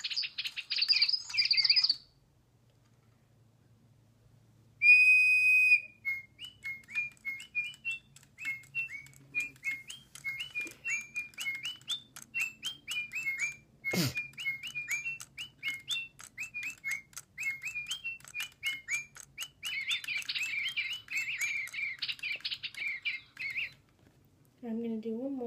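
A DigiBirds electronic toy bird sings in solo mode, giving a long run of quick, bright chirps and whistled notes with short pauses, fairly faint and close.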